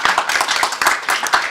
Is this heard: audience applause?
yes